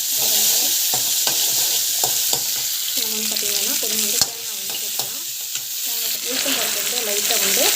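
Green onions and chillies fry in hot oil, a steady loud sizzle throughout with repeated stirring scrapes and clinks of a utensil against the pan.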